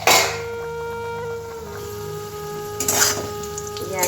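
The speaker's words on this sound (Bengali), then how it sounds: "আলু ভাজা হচ্ছে।" Potatoes fry in a pan for a home birthday meal, making a moderate sizzle with a few stirring clatters, while a steady tone holds in the background.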